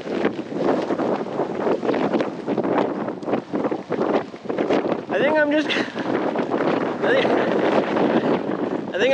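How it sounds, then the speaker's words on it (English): Strong wind in the Badlands buffets a truck camper, roaring and gusting in loud irregular surges against the microphone, while a person talks briefly under the noise. "it's windy out here."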